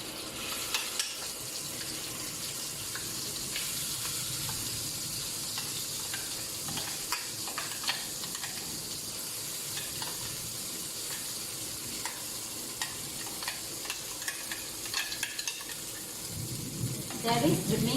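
Ground spice paste sizzles and fries in a pan for vegetarian Melaka-style rendang, a steady crackling hiss with scattered scraping stir sounds, moderately loud and continuous, with faint running water late on.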